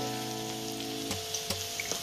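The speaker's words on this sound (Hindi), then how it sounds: "अब इसे हल्का सा भून लीजिए।" Potatoes lightly frying in a pan for veg pulao, a steady soft sizzle with faint crackles and a few small clicks near the end, no voices.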